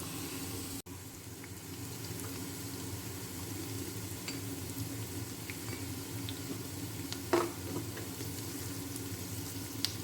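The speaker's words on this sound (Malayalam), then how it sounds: "ചുവന്നുള്ളി ഒന്ന് മൂക്കണം" Shallots frying in a pan, a steady soft sizzle with fine crackle running throughout at moderate level, with a brief clatter near the start and a small knock later on.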